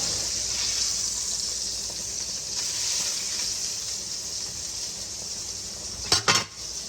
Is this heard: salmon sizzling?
yes